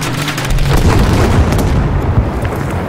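Bombs going off in Battlefield 5, a loud continuous roar of blasts and rumbling debris filling the whole stretch, heavy low booms layered over dense crackling noise with no talk.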